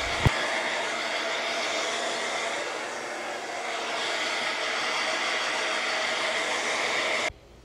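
A hair dryer blows steadily on the wet fur of a five-year-old Korean Maltese dog after its bath, giving a loud, continuous roar that cuts off abruptly near the end after a brief click at the start.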